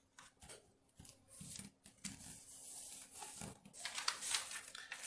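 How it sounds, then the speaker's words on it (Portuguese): Paper folded and unfolded for an origami rhinoceros, close and quiet crisp crinkles, creases and rubbing strokes arriving in short bursts with brief pauses. "Dobrou, desdobrou."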